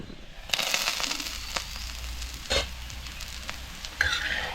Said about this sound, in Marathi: कमी गॅसवरच हा पोळा आपल्याला भाजून घ्यायचा चांगला खमंग